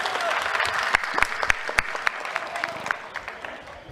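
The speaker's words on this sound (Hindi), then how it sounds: "तालियां बजाओ अखिलेश भाई के लिए आप लोग।" Dense audience applause at a Samajwadi Party gathering in Mumbai, a steady wash of clapping with sharper individual claps standing out, sustained throughout.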